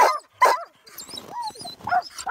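Sled dogs bark and yip in short, sharp bursts, with a couple of loud barks followed by higher whining yelps and excited cries, fairly close and irregular in rhythm.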